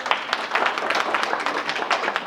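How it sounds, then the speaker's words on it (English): Workshop audience applauding at a student professional development event, a dense patter of many hands clapping at once, steady and fairly loud throughout. "Round of applause."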